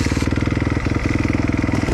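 A KTM SX motocross motorcycle engine running close by, a loud, fast, steady pulsing putter with a brief dip in the middle.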